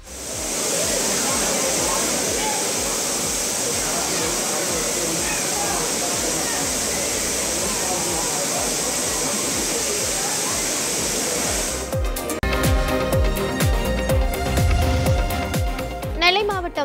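Courtallam Main Falls in Tamil Nadu pours down in a continuous, loud, broad roar of rushing water, steady and close for most of the stretch before music takes over near the end.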